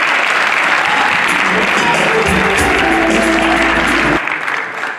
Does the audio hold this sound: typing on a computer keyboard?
no